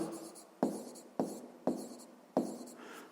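Pen writing by hand on paper while working a math exercise, a quiet scratchy scrawl broken by four sharp taps or strokes at steady intervals, close and soft with no talk.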